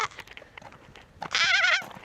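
A sheep near the Giant's Causeway in Northern Ireland gives one loud, wavering bleat close by, following a stretch of quieter outdoor background noise.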